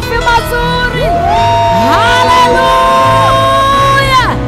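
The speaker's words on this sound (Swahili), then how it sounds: "Tupigie yule Mungu aliyetuumba na originality ya Afrika makofi mazuri" A church congregation at a cultural Kikuyu service cheers and whoops loudly, with shouts and sustained voices filling the space close by, the crowd noise continuous throughout.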